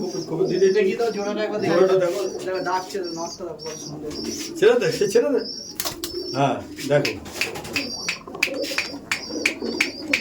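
Mangaljuli breed pigeons coo repeatedly in a pigeon loft, with soft, throaty calls close to the listener. Sharp chirps and taps mix in, and people talk over the birds.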